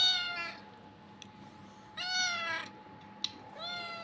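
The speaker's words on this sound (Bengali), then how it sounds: "এই যে সে ম্যাও ম্যাও করতে করতে খাটে উঠে গেছে।" A house cat meows three times at home, drawn-out, clear calls spaced about two seconds apart, close and fairly quiet over a low steady hum.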